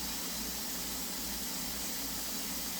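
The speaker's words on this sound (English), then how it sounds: "Flow of steam can be seen, heard, or felt coming from the vent pipe." A steady, continuous hiss of steam rushing out of a pressure canner's vent pipe, broadband and unchanging, with a low rumbling undertone throughout.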